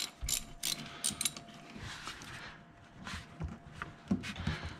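A tool clicks and ratchets while a radiator hose clamp on a 3G car is loosened, giving a few sharp mechanical clicks and scrapes at close range with no talk.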